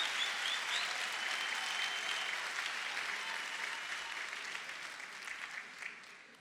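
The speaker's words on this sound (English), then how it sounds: "let's give our graduates one more round of applause" A large audience at a graduation ceremony gives sustained applause for the graduates, a steady wash of clapping that slowly thins toward the end.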